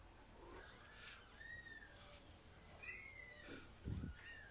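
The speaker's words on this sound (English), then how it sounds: "Did you hear the kitties?" Several kittens mewing faintly in a quiet indoor space, with thin, high, repeated cries spread across a few seconds over a soft background hiss.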